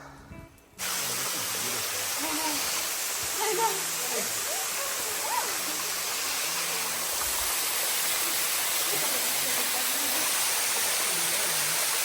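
A waterfall on an O'ahu hike roars as a loud, continuous rush of spray, starting abruptly after a brief quiet moment and holding steady, with faint voices beneath.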